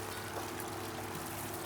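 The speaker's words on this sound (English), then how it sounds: "Water falling on water always gives you a really good sound." Water from an old stump fountain falls into its pool with a soft, continuous splashing trickle, faint and steady.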